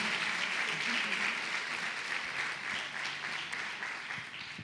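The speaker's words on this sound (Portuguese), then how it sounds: "Você pode aplaudir ao Senhor?" A church congregation applauds during a worship service, a steady wash of many hands clapping that holds throughout at moderate distance, fairly quiet and fading slightly toward the end.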